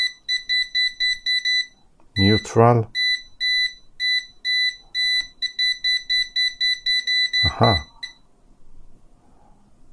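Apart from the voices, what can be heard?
UNI-T AC voltage detector beeping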